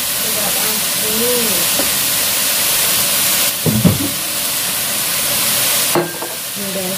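Seasoning paste is stir-fried in a pan until the oil separates, giving a steady loud sizzling hiss with brief scraping stirs, while a person talks nearby.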